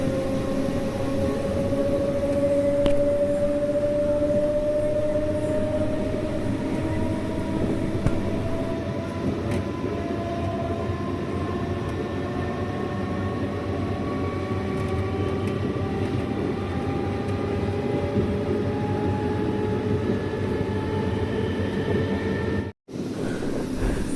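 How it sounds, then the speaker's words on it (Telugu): Tenali to Repalle passenger train 07784 running on the line, a continuous loud rumbling drone of wheels and carriages with a rising tonal whine, heard steadily from on board with no talking. "ఫైనల్లీ రేపల్లి చేరుకున్న ట్రైను."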